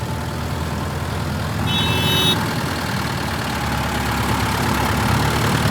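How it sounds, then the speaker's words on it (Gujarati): A Mahindra tractor engine runs steadily outdoors in a village, a loud, continuous low diesel drone with no pauses and a brief high whine partway through. "અમે મહિન્દ્ર ટ્રેક્ટર આવી ગયા"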